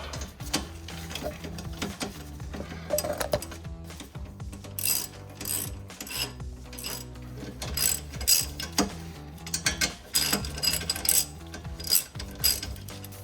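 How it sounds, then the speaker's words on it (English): A ratchet and socket tighten a nut on a 2005-2010 Mustang brake assembly, with close, quiet bursts of rapid clicking pawl ratcheting repeated in short runs. "take your socket to tighten it up"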